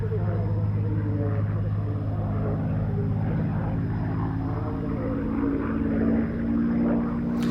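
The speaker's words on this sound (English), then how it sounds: "This Spitfire flying at Waddington is a Mark 5B that came off the production line at Castle Bromwich in August 1941." Supermarine Spitfire Mark 5B flying at an airshow at Waddington, a steady droning piston-engine propeller rumble heard from a distance beneath a voice speaking over it.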